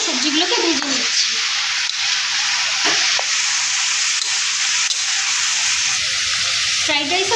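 Vegetables for fried rice frying and being tossed in a hot pan, a loud continuous sizzle with stirring scrapes and a voice briefly heard at the start and end.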